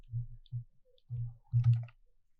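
Quiet computer mouse clicks during a Microsoft Word tutorial on tab stops, a few soft, close, separate taps spaced irregularly over two seconds, with silence between them.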